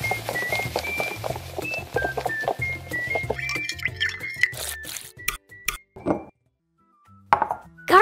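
Sauce with cornstarch is stirred in a small bowl, giving close wet sloshing and light clinks of utensil against the bowl. The stirring runs steadily, then breaks into a few separate taps before a short silence.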